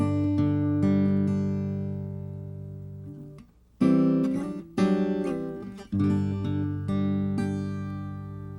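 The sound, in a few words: acoustic guitar arpeggiated fingerpicking pattern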